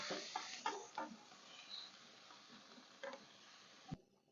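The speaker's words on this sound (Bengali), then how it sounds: "এবার ফুলকপিটা আমি ভালো করে নাড়িয়ে দেবো" Boiled cauliflower is stirred into fried spices in a pan, with soft scraping strokes and a faint sizzle, quiet and close, ending in a brief clatter.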